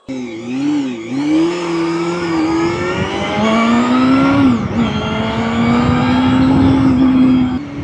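A car rolling slowly along a road with a loud, droning engine, the pitch wavering and rising slightly as it holds a low speed, close by and continuous with no talk.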